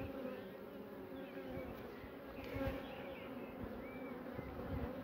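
Honeybees buzzing steadily at a nucleus hive during a colony inspection, a close, continuous droning hum with slight swells in loudness.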